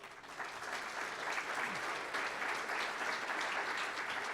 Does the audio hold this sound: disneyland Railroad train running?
no